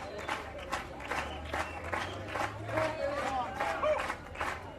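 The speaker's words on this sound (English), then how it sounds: "Great encouragement from the big crowd, though." A big crowd at a strongman competition claps and cheers in a steady rolling wave, while a commentator talks over the noise throughout.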